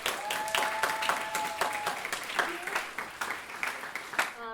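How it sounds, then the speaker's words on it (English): Audience applause for intern presenters at an internship final celebration, lively clapping with distinct claps, a tone and faint voices underneath. "Please give them a huge round of applause."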